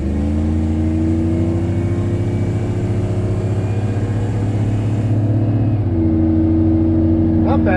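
A Chevy Suburban with a swapped aftermarket muffler accelerates hard, its exhaust a loud, steady low rumble that rises briefly before easing near the end, close to the mic with a voice at the close.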